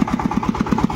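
Tractor engine running on the way to a farm field, a steady close chugging idle with an even, regular pulse and no voices.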